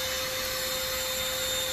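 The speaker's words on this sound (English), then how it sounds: "I use this little vacuum, the Orec, to blow all around the vacuum and remove any kind of pet hair" Orec compact vacuum blowing air around an Anway Clear Trak Workhorse cyclonic upright vacuum to clear pet hair, a steady loud motor whine and rushing airflow with a constant tone running unbroken throughout.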